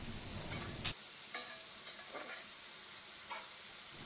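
Onion, ginger, garlic and spice mix sizzle steadily in a hot pan while a spoon stirs and scrapes through it, a soft continuous frying hiss with a few scraping clinks, close and alone without talk.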